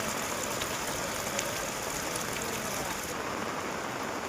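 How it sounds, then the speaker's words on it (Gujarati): Rain falls in Saputara in Gujarat's Dang district as an even, dense wash of noise that holds steady and close for the whole stretch, with no voices. "ડાંગ જિલ્લામાં લાંબા સમયના વિરામ બાદ ફરી એકવાર શાનદાર વરસાદી માહોલ જામી ગયો છે।"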